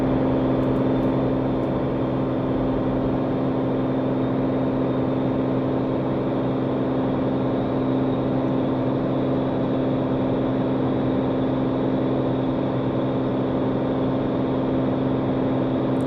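A steady, droning piston engine of an SR22 aircraft in flight in the X-Plane 12 simulator, loud and unchanging throughout with a constant hum and propeller buzz, heard alone without talk.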